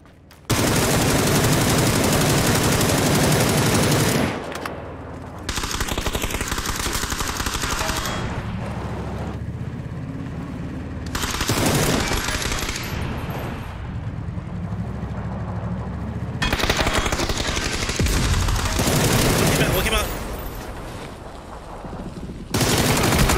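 Video game gunfire in PUBG, dense bursts of rapid automatic fire that run for several seconds at a time with short pauses between, loud and close.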